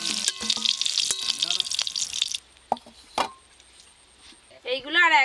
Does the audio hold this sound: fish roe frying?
yes